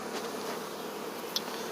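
Honeybees buzz in a dense, steady hum while a five-frame nuc is moved into a ten-frame hive, the agitated swarm close and constant, with one faint sharp click partway through.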